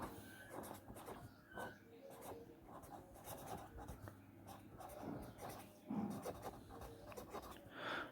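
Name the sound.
writing on a board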